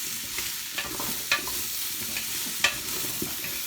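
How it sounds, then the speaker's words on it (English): Chopped broccoli, onion, garlic, carrots and parsnips sizzle in a soup pot while being stirred, a close steady frying hiss broken by scraping stirs and a few sharp clinks of the utensil. "And again, carry on with the stirring."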